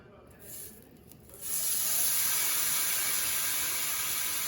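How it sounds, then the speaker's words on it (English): Bacon strips laid on a hot Blackstone griddle break into a loud, steady hiss partway through, following a few seconds of quieter noise. "Got a orange bar going down there, so I'm gonna start getting this bacon down."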